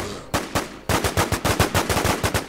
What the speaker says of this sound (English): I can hear gunshots, but I don't see them